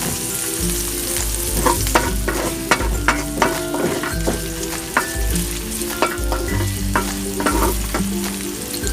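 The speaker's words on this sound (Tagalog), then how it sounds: "Gisayin lang natin para mabango." Mussels and garlic sautéing in a hot pan, with loud continuous sizzling broken by repeated scraping and clinking stirs, close and with no speech.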